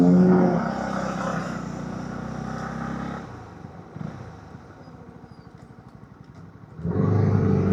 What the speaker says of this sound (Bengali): তবে আমারটার সাউন্ড তেমন ভালো আসবে না। 125cc bike